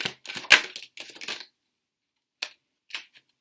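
Tarot cards are shuffled close up in quick papery riffles and flicks, a burst of rapid snaps followed by a pause and a few scattered card taps, with no talking.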